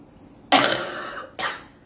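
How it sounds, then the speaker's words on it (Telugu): Two harsh coughs from someone with a bad cold, a long rasping one followed by a shorter one, close and loud, with no talk. "బాగా కోల్డ్ చేసేసి విపరీతమైన దగ్గు రంపనండి."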